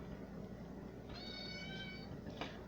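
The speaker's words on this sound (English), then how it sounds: "That is our rescue cat that we rescued from the ditch." A rescue cat gives a single faint, drawn-out meow partway through, set against a steady background hiss in a kitchen where oil is heating.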